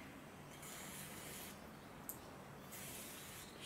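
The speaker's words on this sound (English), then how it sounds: "So I use TF2 lubricant spray with Teflon." Bursts of TF2 Teflon lubricant spray coating the trigger of an Israeli Mauser rifle, three long hissing sprays with short pauses between them, close and fairly quiet, with one small tap partway through.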